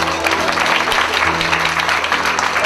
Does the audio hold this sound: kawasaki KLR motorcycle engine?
no